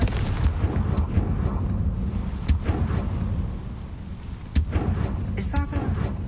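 A Confringo blasting spell in the Hogwarts Legacy video game goes off in booming, rumbling explosive bursts over a dense, roaring game backdrop, with a sharp blast near the middle and another toward the end.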